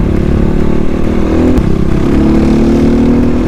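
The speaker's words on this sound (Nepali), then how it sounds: "यसको यो डिबी किलर झिके नि त्यो अरू बाइकको डिबी किलर झिके जस्तो साह्रो सुनिँदैन" A motorcycle with its dB killer removed from the exhaust idles and revs up close, a loud continuous throaty rumble that swells slightly midway, with no talk over it.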